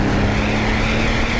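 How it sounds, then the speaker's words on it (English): RUF BTR2 turbo sports car at speed with the engine droning steadily. A continuous airy whoosh from the turbo sits over a low engine hum, close and loud, without talking. "There's a bit of a whoosh, but this gives you much more of a turbo blow-off noise than a 993 turbo."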